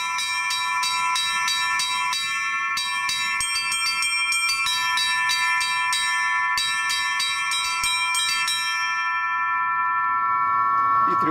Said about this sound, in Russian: Также звонят аккордами, когда сразу три колокола.